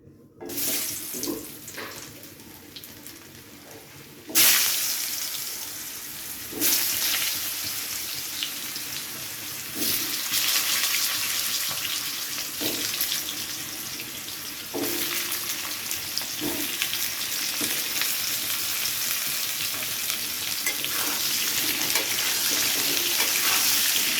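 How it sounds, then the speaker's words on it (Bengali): Potatoes frying in hot mustard oil salted beforehand, a loud continuous crackling sizzle that flares sharply as they drop in and then stays dense and steady, close by, with occasional stirring knocks. "তেলের মধ্যে সামান্য একটু নুন ছিটিয়ে দেব, দিয়ে আলুগুলোকে ভেজে নিচ্ছি প্রথমে"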